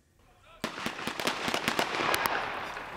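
After a quiet moment, a rapid string of sharp gunshot-like cracks rings out during a police exercise behind a fire station, irregular and loud, followed by lingering rumble and noise.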